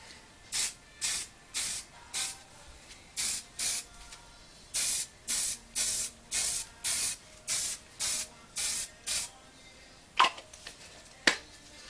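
Short hissing bursts from a Rust-Oleum aerosol spray paint can repeat in a steady rhythm, about a dozen sprays close by, followed by a couple of sharp clicks.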